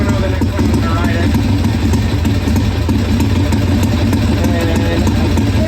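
A 1981 Harley-Davidson Ironhead XLH motorcycle engine idles steadily and loudly nearby, a continuous low, rough rumble that holds throughout.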